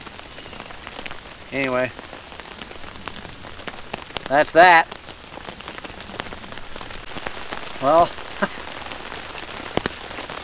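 Steady rain patters on a tent during a thunderstorm while camping, a dense continuous drizzle of drops close by, with someone speaking briefly a few times over it.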